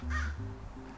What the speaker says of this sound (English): That crow really doesn't want me to work